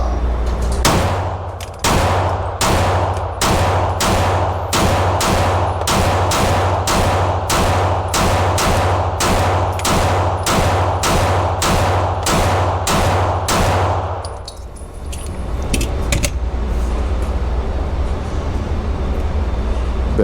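A TTI Combat polymer pistol with a 21-round magazine fires a rapid string of about twenty loud, sharp shots at a steady quick rhythm, then stops, leaving ringing ambience.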